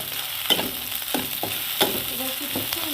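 Ginger-garlic paste hits frying onions for a spicy potato curry, sizzling steadily in the pan with a few sharp scrapes and stirring knocks spaced through it, close and moderately loud, with no talking.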